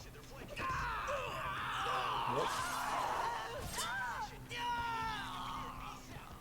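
Enemies in the video game X-Men Origins: Wolverine let out strained, wavering screams and yells that rise and fall across several seconds, loud and continuous in the foreground over game sounds.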